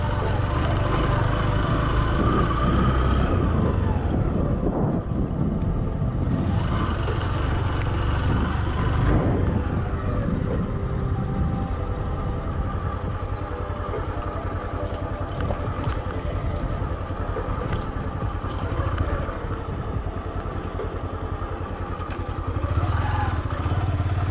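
A Yamaha YBR motorcycle ridden over a rocky off-road track, with the engine droning close and steady throughout while the chassis clatters and rattles over the rough ground.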